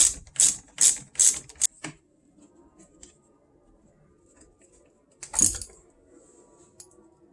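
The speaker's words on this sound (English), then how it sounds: "First thing we're going to do is take the negative cable off the battery." A 10 millimeter wrench loosening the negative battery cable terminal on a 2024 Ford Maverick: four quick clicking ratchet strokes, a short pause, then one more sharp click nearby.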